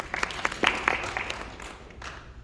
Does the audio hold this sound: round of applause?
yes